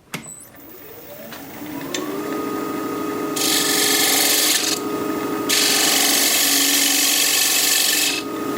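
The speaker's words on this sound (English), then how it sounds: "I'm going to be using a 1/2 inch bowl gouge" A 1/2 inch bowl gouge cuts wood on a lathe while turning a pedestal bowl, a steady scraping rasp over a constant motor hum that swells louder in long sustained passes, close and with no talk.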